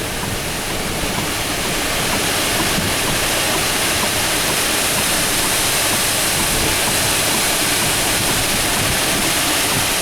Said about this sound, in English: It's like 50-mile-an-hour winds